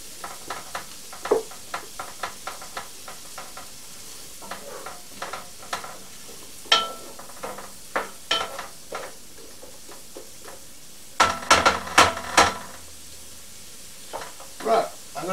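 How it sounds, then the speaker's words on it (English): Onions frying in a pan, a quiet sizzle broken by frequent sharp crackles and spits, with a denser clatter of stirring near the end and no voices over it. "Let those fry for a few minutes. Let the onions go"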